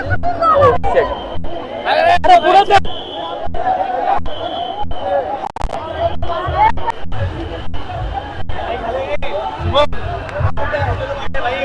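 A large, dense crowd gathers for the arrival of the Chintamani Ganesh idol at Chinchpokli, with steady loud chatter and babble and occasional shouts or sharp knocks throughout.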